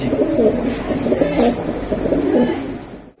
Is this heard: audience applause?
no